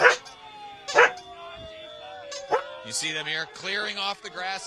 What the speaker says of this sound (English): I don't know if you guys can hear my corgi squeaking and barking in the background